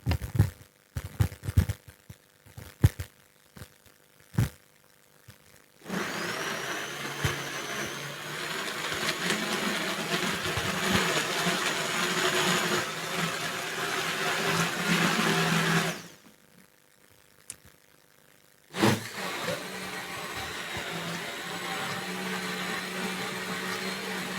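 A kitchen blender whirs steadily for about ten seconds while blending an Irish moss smoothie, a loud, even motor roar. Scattered clicks and knocks come before it, and a brief second burst follows a pause.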